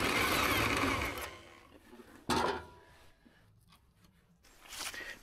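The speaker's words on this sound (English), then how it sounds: "Here already cutting mounting brackets for the seat," A tool cuts mounting brackets for the seat of a tricycle velomobile under construction: a loud, rough grinding rasp for just over a second, a short sharp burst, then quieter scraping that swells again near the end, no speech.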